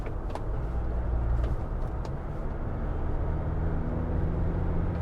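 A 2021 Ford Transit Trail van cruising at highway speed, around 87 to 100 km/h: steady low road and engine rumble with tyre and wind noise, even and unbroken, with no talking.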